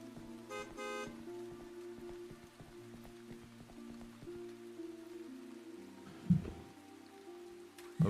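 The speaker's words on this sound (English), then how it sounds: "The rain effect is quite nice." Steady rain effect from a neon-lit video game, a continuous soft patter with tonal game sounds layered over it and a few sharp thumps near the end; no one speaks.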